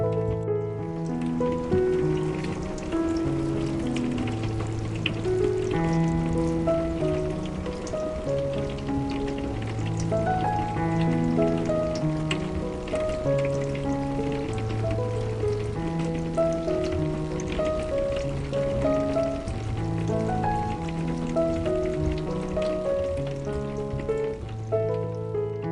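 Steady rain falls across a surface with a dense, even patter throughout, while soft tonal music plays over it.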